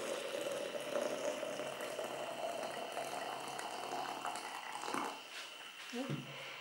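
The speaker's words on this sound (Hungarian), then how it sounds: "Így szépen felöntöm vízzel" Water poured over black elderflower blossoms to brew tea, a steady, soft rushing splash that carries on evenly for several seconds and tails off near the end.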